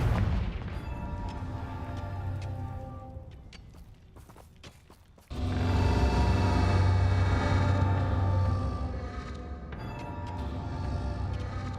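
A Confringo blasting curse detonates in Hogwarts Legacy, with a few sharp snaps followed by a sudden loud boom that swells into a sustained roaring rumble.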